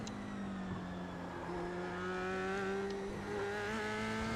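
An F3 race car engine in a racing video game, its pitch climbing steadily as it accelerates on the throttle around a fixed circuit; a smooth, continuous synthetic engine whine, moderately quiet with no talk.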